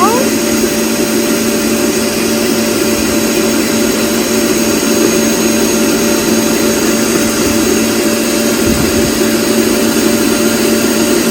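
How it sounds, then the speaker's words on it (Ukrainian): An electric mixer whips marshmallow mixture with a continuous, loud, high whirring drone that stays steady from start to finish, with no pauses. "І збиваємо. Довго ми не збиваємо."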